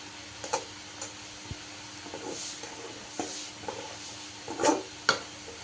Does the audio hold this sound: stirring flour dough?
yes